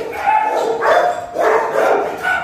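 A dog barks repeatedly in short bursts, fairly close, with a raspy, excited tone and steady background noise.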